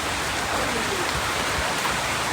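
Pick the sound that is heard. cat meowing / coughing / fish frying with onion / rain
rain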